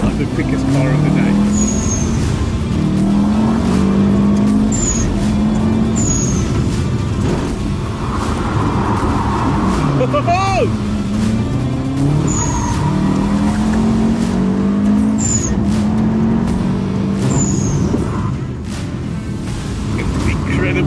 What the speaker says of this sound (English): Not the quickest car of the day.